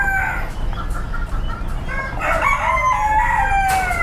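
Roosters crow and hens cluck among caged birds at a Thai poultry and pet market at Chatuchak and Minburi, several calls overlapping nearby over a steady crowded background hum.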